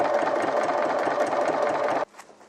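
A sewing machine runs a continuous straight seam through fabric while hanbok-style royal robe pieces are assembled, a steady close mechanical whir that cuts off abruptly after about two seconds, leaving near quiet.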